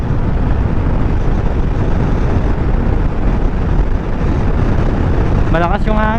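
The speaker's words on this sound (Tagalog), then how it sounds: "Malakas yung hangin." Strong wind buffets the microphone in a steady, loud roar throughout, recorded while riding a Honda Click 125 scooter during a top-speed run, with a brief engine-like tonal whine rising near the end.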